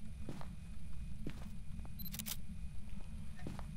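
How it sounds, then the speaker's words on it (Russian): A camera taking a photo in the horror game Phasmophobia, a sharp shutter click with a bright electronic burst midway, set against a low background rumble and a few scattered soft knocks, with no talk. "А, сейчас сфоткаю."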